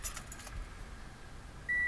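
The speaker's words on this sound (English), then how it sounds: "I guess I should turn my keys back on" Car keys jangle briefly near the ignition of a Toyota Matrix, a few light metallic rattles at the start, then quiet before a steady electronic chime sounds as the ignition comes on.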